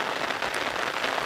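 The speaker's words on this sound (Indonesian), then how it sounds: "di guyur hujan. Hujannya tidak reda" Steady heavy rain pours down outdoors in the late afternoon, a dense, even hiss that fills the whole moment without pause.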